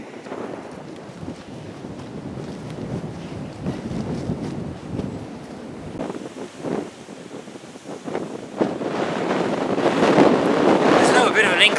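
Wind gusts across an exposed path climbing toward Saucel Hill near Paisley, buffeting the microphone in a rough, swelling roar that grows louder toward the end, with someone talking over it.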